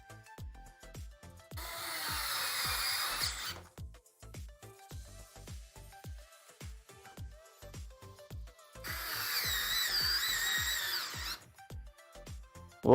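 A power drill driving in screws during a PC build in a Lian Li O11 Dynamic case, two long whirring bursts separated by a run of sharp clicks and taps, loud and close with no talking.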